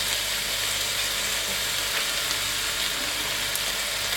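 Mutton karahi sizzles and fries steadily in a hot pan as chilies go in, a dense continuous hiss close up with no talking.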